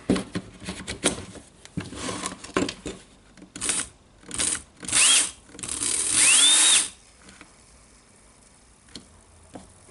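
A faulty Hikoki jigsaw with a dead motor and a loose ball bearing spinning inside. It gives close, rattling, whirring bursts that rise and stop several times, with ticking and clattering between them and no talk.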